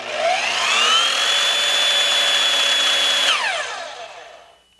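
Evolution R255SMS-DB+ 10 inch belt-driven miter saw switched on with no cut, its motor whining up to a steady high pitch, holding loud and close, then winding down as the blade coasts to a stop.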